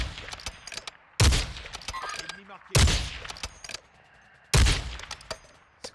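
Bursts of automatic gunfire from a Warzone 2 match: three loud, sharp volleys separated by quieter stretches of scattered distant shots and game ambience.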